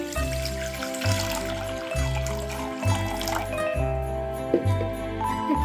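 A little water poured into a kadai set on a gas flame while cooking Bengali cabbage, a soft close trickle and drip over steady low background hum and faint music.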